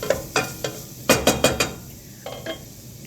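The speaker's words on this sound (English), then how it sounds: "get all these carrots coated in the nice bacon fat" Carrots sizzle in bacon fat in a pot while a spoon stirs them, several clear metallic scrapes and clinks over a soft steady frying hiss.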